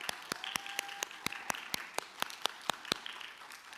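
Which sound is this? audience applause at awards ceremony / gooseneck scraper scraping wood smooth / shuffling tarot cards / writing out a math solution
audience applause at awards ceremony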